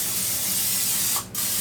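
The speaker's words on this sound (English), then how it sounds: "I'm going to spray it with my kitchen spray or Pam or whatever brand you buy." Kitchen cooking spray hisses steadily from an aerosol can onto a 9 by 13 baking pan in one continuous close burst, briefly pausing near the end.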